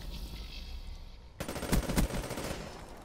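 A PPSh submachine gun firing in Black Ops 3, rapid stuttering bursts of close, loud automatic fire cutting in abruptly after a quieter stretch of game ambience.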